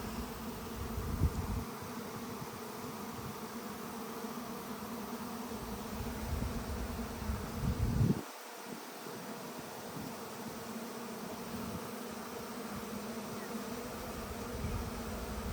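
A dense buzzing of a honeybee swarm leaving the hive fills the air continuously, with a brief dip in the low hum partway through before the swarming drone resumes.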